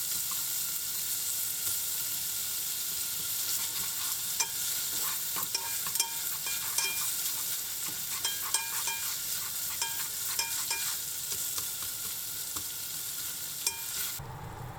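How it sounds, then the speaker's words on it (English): Minced meat stirred and scrambled with four chopsticks in a pot over medium heat, a soft continuous sizzle with light clicking stirs, fairly quiet and close. "Put the minced meat in a pot, turn on the heat and use 4 chopsticks to stir and scramble."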